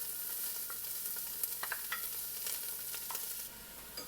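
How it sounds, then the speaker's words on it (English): Chopped large yellow onion sautéing in a pan with salt and pepper, a steady close sizzle with light scraping stirs and small clinks of a utensil, no voices. "Sauté until the onions start to turn clear."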